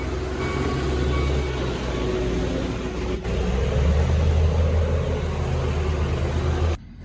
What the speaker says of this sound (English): And they're crushing cars, it's pretty loud.